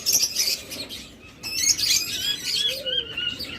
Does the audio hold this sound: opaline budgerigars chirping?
yes